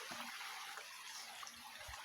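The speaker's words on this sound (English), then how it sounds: "This is part of the Nairobi River stream." A stream of the Nairobi River runs along a nature trail at the Giraffe Center in Karen, Nairobi. It gives a steady, close, broadband rush of flowing water throughout, with no voices.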